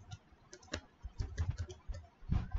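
Computer keyboard typing while writing Spring Boot WebFlux code: quiet, close, irregular key taps in short bursts, with no talk over them.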